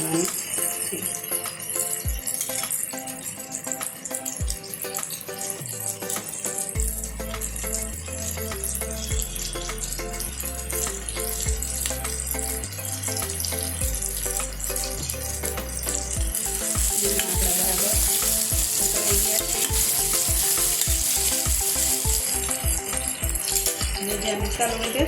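A stuffed eggplant curry, Kathiyawadi style, frying in a pan as water is added: a soft sizzle with low bubbling thumps, then rhythmic spoon-on-pan scraping and clatter building toward the end, close and fairly loud.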